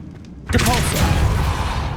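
Depulso spell cast in Hogwarts Legacy, a sudden whooshing burst with a shimmering magical sweep and low rumble that breaks a quiet moment, then trails off.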